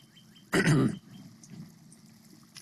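A single loud, close cough-like throat clearing bursts out briefly, then quiet room tone with faint low murmuring follows.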